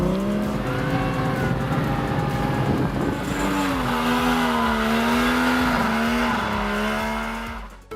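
A Tomcar TX two-seater all-terrain vehicle weighing 620 pounds drives with a loud, close engine whose pitch rises and falls steadily as it revs, fading toward the end.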